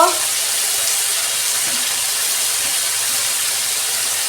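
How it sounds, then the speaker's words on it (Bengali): Spices with salt and turmeric frying in a pan, a loud steady hiss and sizzle that holds evenly throughout with no pauses. "হলুদ দিচ্ছি, 2 মিনিট আমি ভেজে নেব।"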